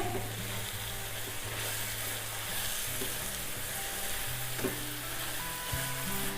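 Shan gajar halwa mix being stirred in a pan, a steady close sizzle with soft scraping strokes throughout and no talking.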